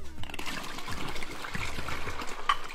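Blue Calypso Ocean Blue Lemonade poured into a candy jungle juice mix over ice, giving a steady liquid trickle and splash that runs close and continuous for nearly three seconds.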